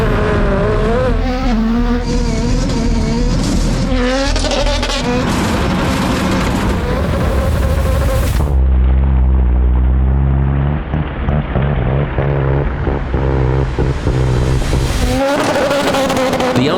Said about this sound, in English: can a car skim a 199-foot pond without becoming a submarine?